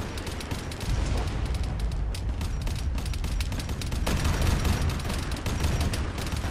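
Dense, continuous automatic gunfire from Warhammer 40k mod weapons such as a heavy bolter in ARMA 3, with rapid overlapping shots booming steadily and no pauses, heard mid-distance.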